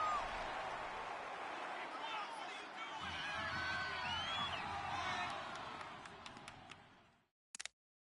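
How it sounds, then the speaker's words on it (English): A stadium crowd in a football video game roars and cheers ahead of a big third down, a loud swelling wash of noise that cuts off abruptly near the end, followed by a couple of short knocks. "the crowd getting into it as we come up on a big 3rd down"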